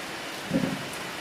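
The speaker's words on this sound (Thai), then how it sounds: "อาจจะมีเสียงฝนรบกวนแน่นะครับ" Rain falls during an outdoor live broadcast, a steady broadband hiss with a brief low thump near the middle, and no voices.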